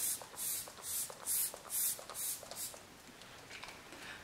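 Makeup setting spray bottle misting in a rapid run of short hissing puffs, about a dozen bursts in quick succession that fade and soften toward the end, close and fairly quiet.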